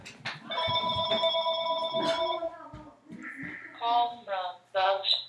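A telephone ringing with a sustained electronic tone for about two seconds, followed by shorter warbling ring bursts, all close and fairly loud, with faint talking and background clatter around them.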